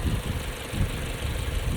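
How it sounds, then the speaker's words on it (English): Small four-cylinder engine of a 2024 Toyota Grand Highlander three-row SUV running, a steady, rough low rumble with a constant background hum, alone without speech. "So just a little engine in here"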